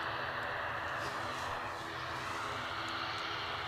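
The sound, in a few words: ATR turboprop aircraft landing at Edinburgh Airport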